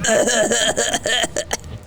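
A run of several rough, harsh coughs in quick succession, close and loud, trailing off into quiet near the end.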